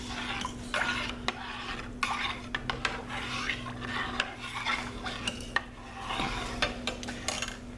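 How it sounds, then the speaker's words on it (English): Lye solution stirred into oils for cocoa butter and lavender goat milk soap, a steady scraping swish of spatula against the bowl with repeated light clinks, close and moderately quiet over a low constant hum, no talking. "So let's stir them."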